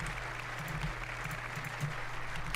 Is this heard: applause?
yes